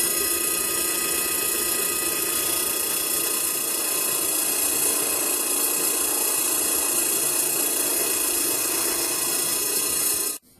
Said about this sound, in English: I've got this little drum sanding attachment for my drill press that I'm going to use.